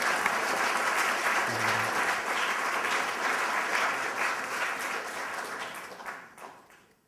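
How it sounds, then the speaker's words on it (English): Audience applause at a 2012 permaculture presentation, a dense, steady wash of clapping from a full room that holds strong and then tapers off over the last second. "You're supposed to get up there before they're done clapping."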